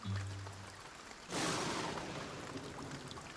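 Steady rain falls, starting as a soft, muffled patter and then swelling abruptly into a dense, loud, even hiss that holds for the rest of the clip.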